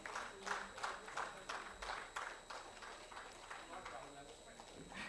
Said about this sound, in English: let's keep the applause rolling for BKC Enterprises